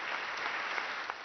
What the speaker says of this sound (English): Cardinals stood and clapped for Pope Benedict XVI as he met with them at the Vatican